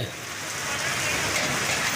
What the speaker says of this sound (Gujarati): મોટા ફોરામાં ભારે વરસાદ પડી રહ્યો છે